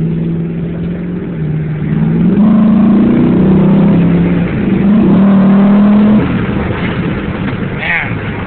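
A Pontiac GTO's engine pulls hard from inside the car, a loud droning roar that climbs in pitch through several surges before easing off near the end, with a voice talking over part of it.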